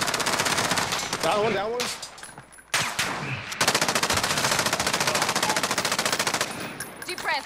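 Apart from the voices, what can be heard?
machine gun fire in video game Call of Duty Warzone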